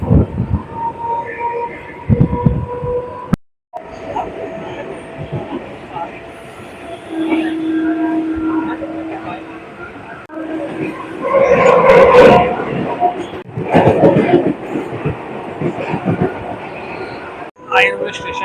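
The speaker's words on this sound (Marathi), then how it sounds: "ट्रेन निघाली म्हणजे" Mumbai local train pulling out of Rabale station and rolling toward Thane. A loud interior rumble rises with wheel clatter and a metallic squeal, a brief drop partway through, and voices heard at times over the noise.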